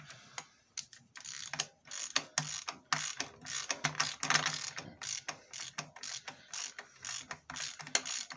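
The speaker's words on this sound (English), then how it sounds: "let's get the ratchet and let's get that off" A ratchet spins off the centre nut of a Kawasaki ZZR600 motorcycle engine on a Sealey engine stand in a workshop, clicking in quick repeated bursts of sharp ratcheting strokes, close and loud, with no talk.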